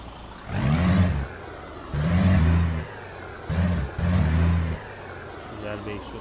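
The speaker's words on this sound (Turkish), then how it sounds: "Güzel bir egzoz sesi var." A DAF XF Euro 6 truck engine in Euro Truck Simulator 2 revs in repeated low, rumbling bursts, rising and falling several times with a throaty exhaust note.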